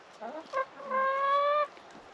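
Chickens close by, a few short clucks followed by a longer drawn-out squawking call, fairly quiet with no talking.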